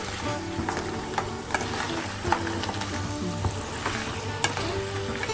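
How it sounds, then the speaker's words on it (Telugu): Crab pieces fry with turmeric in oil, giving a dense, crackling sizzle with frequent stirring clacks and scrapes, close and continuous, with no voices. "పసుపు వేసి నూనె వేసి ఇది ఫ్రై అయ్యేటట్టు చూస్తున్నా."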